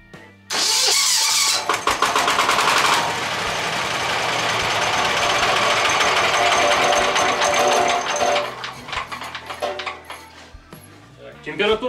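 A diesel walk-behind tractor engine fitted with an electric starter bursts into life and runs with a loud, steady, rapid clatter close by, then the throttle drops and it settles to uneven chugging.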